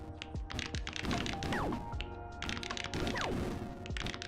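Clicky button presses in the pixel art game PixelArt Academy, a rapid run of sharp taps and clacks over busy game sounds with sweeping tones, steady and fairly quiet throughout.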